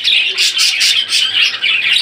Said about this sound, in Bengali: এখানে গিরিবাস কবুতর রয়েছে দেখতে পাচ্ছেন